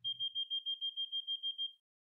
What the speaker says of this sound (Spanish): Suena un pitido.